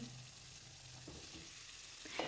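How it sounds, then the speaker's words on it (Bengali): Potatoes and pointed gourd fry together in a pan with a faint, even sizzle and a few soft stirring scrapes toward the end. "এবার আলু পটল একসাথে খুব ভালো করে ভেজে নিতে হবে"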